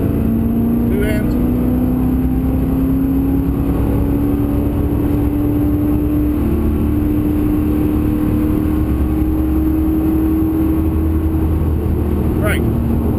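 A V8 race car on hot laps at Pukekohe circuit in Auckland, heard from inside as a loud, continuous engine drone with a slowly rising pitch, steady and unbroken throughout.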